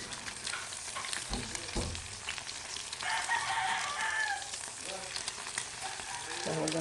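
Spam and egg frying in a pan, a faint crackling sizzle with a rooster crowing nearby in the background.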